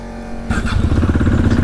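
A motorcycle engine catches and settles into a loud, close idle, a fast even throb after a steady low hum at the start.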